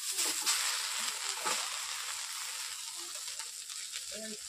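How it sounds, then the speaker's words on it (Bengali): Susni greens sizzle and hiss steadily as they fry in a hot kadai, with soft stirring and a few splattering pops close by. "কড়াইয়ের মধ্যে এই শাকগুলো এখন দিয়ে দিচ্ছি।"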